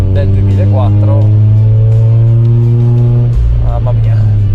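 A 2004 Mazda RX8 engine running at high revs, toward 9000 rpm, gives a loud, steady, buzzing drone that eases off near the end, with people talking over it.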